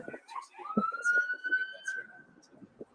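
A police siren wails in a long rising and steady tone, fairly close, with scattered background noise around it.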